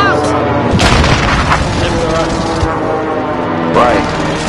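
Air strike explosions land in a military shooter video game, heavy booms and blasts rumbling through continuous battle noise, with a voice talking over the mix.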